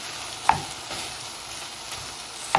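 Minced meat for a cottage pie browns in a pan with a steady, moderate sizzle, broken by two sharp spatula clinks against the pan.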